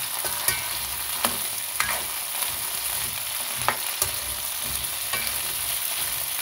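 Shrimp cook in a pan with a continuous close sizzle, punctuated by small sharp pops and ticks spaced a second or so apart; no voices.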